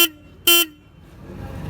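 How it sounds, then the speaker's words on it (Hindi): Two short, loud beeps from a Royal Enfield Hunter 350 motorcycle horn, a quick toot and then a slightly longer blast, close by, followed by low engine rumble. "हॉर्न भी पहले क्या कहते हैं सही से नहीं बज रहा था, अभी बजा के दिखाता था"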